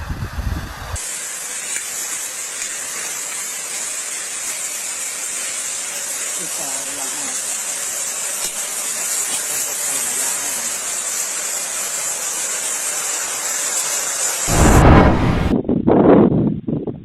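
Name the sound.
steam explosion erupting from Taal volcano, Philippines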